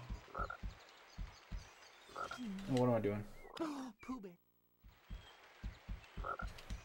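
Frogs croak in rhythmic bursts in the Winnie the Pooh video game Rumbly Tumbly Adventure, with a player talking over a short middle stretch before the croaking resumes.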